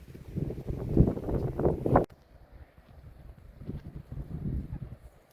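Wind blowing off a dam buffets the microphone in gusts at a carp fishing spot, loud rumbling at first and then a softer, steady blowing.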